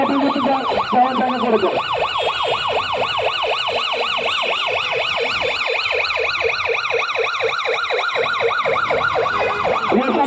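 A nearby ambulance siren wails loudly and continuously in a rapid rising-and-falling pattern on a street in Satkania, Chattogram, with faint traffic underneath.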